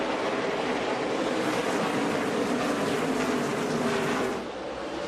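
NASCAR race cars at Bristol roar as one continuous, dense wall of engine noise at the start of the race, loud and sustained, easing slightly at the very end.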